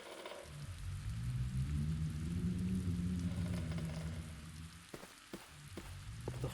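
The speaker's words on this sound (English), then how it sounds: "The hole in the window lets cold wind and rain enter the room." Rain and cold wind come through a hole in a broken window in an old collapsing building wing in a video game, a steady wash of rain over a low rumble, with a few sharp drips or knocks near the end.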